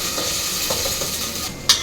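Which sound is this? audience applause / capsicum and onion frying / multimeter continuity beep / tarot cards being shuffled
capsicum and onion frying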